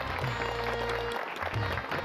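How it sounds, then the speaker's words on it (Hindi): Applause from a studio audience greeting a host on a cartoon airline set, a steady dense patter over a low humming music bed, continuous for about two seconds. "तालियां।"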